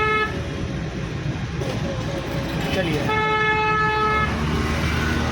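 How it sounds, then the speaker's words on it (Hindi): A car horn honks in sustained blasts over engine and road noise during a driving lesson, with a voice speaking briefly near the start. "हॉर्न दे देंगे,"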